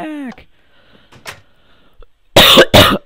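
One person gives two sharp, loud coughs close to the microphone at the end, after a stretch of soft game sounds and quiet talk.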